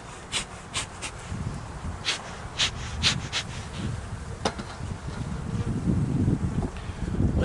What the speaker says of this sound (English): here we have bees coming out of the lid there